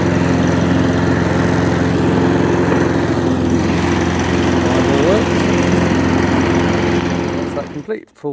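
A Cobra roller lawn mower engine runs loudly after a full service, a steady close droning idle with a faint voice under it, then the engine cuts out near the end.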